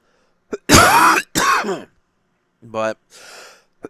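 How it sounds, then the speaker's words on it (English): A man clears his throat sharply twice, close to the microphone, then gives a short voiced sound and a breathy exhale in an otherwise quiet room. "had a little cough there"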